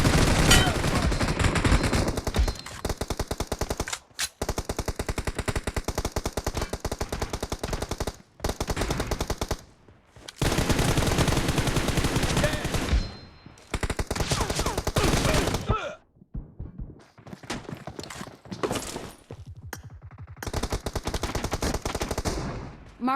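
Rapid, loud shotgun and automatic gunfire in a team deathmatch video game, bursts of shots coming in dense clusters separated by short pauses, with game effects mixed in.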